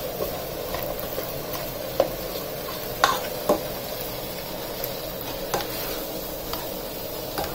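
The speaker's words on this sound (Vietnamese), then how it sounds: "Thì mình cứ đứng mình trộn trộn như hoài nha mọi người thì nó mới đều, nó mới mau nhừ được." A spoon stirs minced pork and vegetable soup in a pot, a steady low swirl of liquid broken by a few sharp taps of the utensil against the pot, close and moderately quiet.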